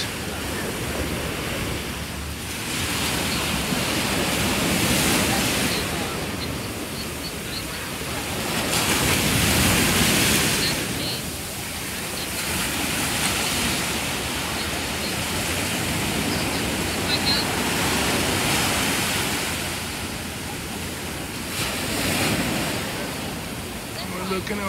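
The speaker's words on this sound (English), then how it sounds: "They are catching brown waves." Surf washing in at Waikiki Beach after a storm, a loud, steady roar of breaking waves that swells and eases in slow surges, with wind rush over the microphone throughout.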